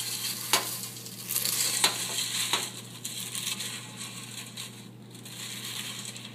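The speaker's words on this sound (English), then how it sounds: "So I've just dumped all the cereal in with the marshmallows, no heat, and stir, stir, stir." Cereal flakes being stirred by hand into marshmallows with no heat, a soft, close rustling and crunching with a few sharper scrapes early on, then a steadier low churn.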